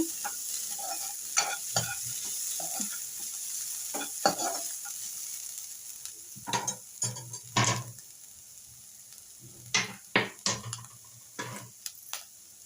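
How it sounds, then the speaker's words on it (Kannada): Grated coconut sizzles and crackles in hot oil, with a steady frying hiss and bursts of louder stirring and scraping close by. Several sharp clatters of a spoon against the pan come in the second half. "ಚೆನ್ನಾಗಿ ತೆಂಗಿನಕಾಯಿನೂ ಎಣ್ಣೆಯಲ್ಲಿ ಚೆನ್ನಾಗಿ ಫ್ರೈ ಆಗಿದೆ"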